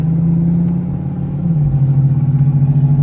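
A Dodge Charger's engine idles with a low, steady rumble, dips briefly as the auto start-stop system cuts off, then restarts and settles back into a pulsing idle, loud and close throughout.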